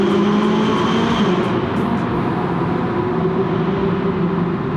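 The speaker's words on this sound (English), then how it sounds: "the exhaust is definitely a little quieter than the S" A McLaren 570GT drives through a tunnel, its exhaust and turbo making a steady, loud, reverberant drone that holds roughly level throughout without talking.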